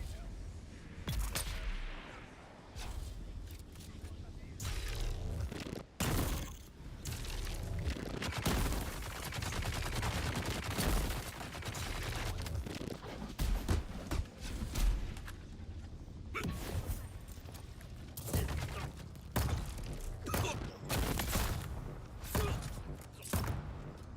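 Gunfire from a gun in the sci-fi survival game Dune: Awakening, heard as near, dense bursts of shots and thuds that continue almost without pause, with swooshing effects mixed in.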